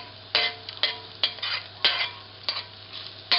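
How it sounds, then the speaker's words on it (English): Garlic sizzles in hot oil in a pan over a gas flame, while a utensil scrapes and stirs it in repeated strokes about every half second. "Stir frying"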